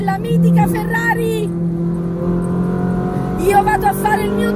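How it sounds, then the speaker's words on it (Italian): A Ferrari 458 Spider roars on the Almería racing circuit, its engine note loud and close with steady, rising revs throughout, while someone talks over it. "vi lascio al rombo della mitica Ferrari"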